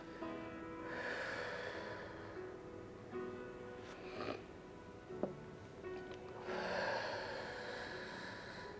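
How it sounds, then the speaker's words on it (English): Forceful breath bursts during a Pilates exercise, several audible exhales and snort-like puffs spaced across the clip, close and moderately loud over a steady low background hum. "Let that tension out with your exhale."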